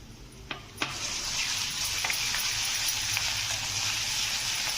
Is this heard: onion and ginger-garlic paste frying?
yes